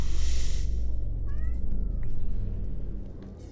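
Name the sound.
cat meowing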